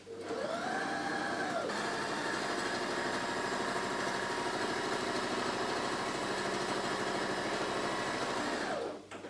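A sewing machine runs a running stitch seam on a cushion with a steady, close mechanical whir that speeds up at the start and winds down at the end.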